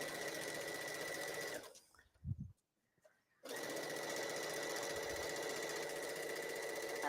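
A sewing machine stitches a fabric basket insert, running in a steady fast whirring hum, stopping briefly for a pause with a few soft handling noises, then resuming at the same even speed, close and alone.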